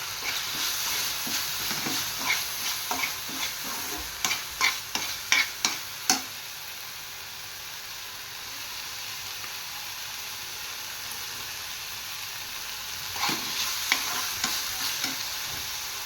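Dal tipped into hot oil for a Maharashtrian gosavale vegetable dish, crackling and sizzling in a pan with a run of sharp pops and stirring scrapes, then a steady soft fry with a second burst of crackles near the end.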